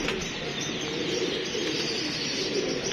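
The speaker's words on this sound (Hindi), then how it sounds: "ये माशाल्लाह कबूतर बैठ रहा है दोस्तों।" A pigeon settles onto a rooftop in the evening, soft cooing and faint bird calls over a steady outdoor hiss, quiet and somewhat distant.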